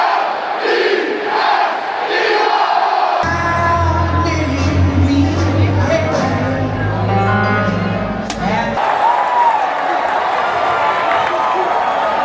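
Super Bowl stadium crowd roaring and cheering as the Chiefs take the field, a loud, dense wall of voices with whoops and shouts and a rumbling low swell through the middle.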